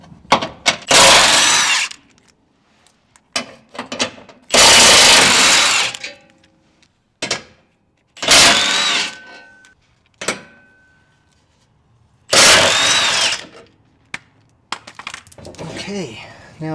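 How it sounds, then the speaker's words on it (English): An impact wrench fitted with an 18mm socket zips off the skid plate nuts of a Jeep JL Wrangler in several loud rattling bursts. Quieter clinks and handling noises fill the pauses between bursts. "just to help speed things along, I'll be using my impact wrench"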